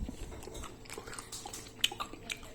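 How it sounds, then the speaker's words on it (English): Someone chews congealed, boiled baobab seeds, making close, wet crunches and bites in an uneven rhythm, with a few sharper cracks standing out. "Chewing them is still a lot of work."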